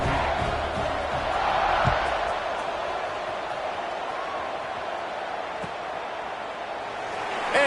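Steady roar of a large stadium crowd at kickoff in a Madden football video game, a dense continuous wash of cheering with a faint commentator voice beneath.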